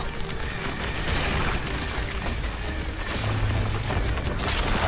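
Missile explosions in the video game Cronos: The New Dawn, a dense, continuous barrage of booms and crashing bursts that stays loud throughout with no pauses.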